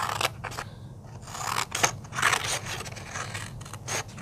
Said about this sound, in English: I'm going to cut up inside here.